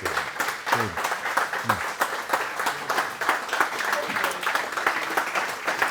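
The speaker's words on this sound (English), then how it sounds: "Some of you have stood up and you're still clapping." An audience applauds after a song at a museum concert on Long Island, sustained even clapping that carries on at a moderate, slightly distant level without letting up.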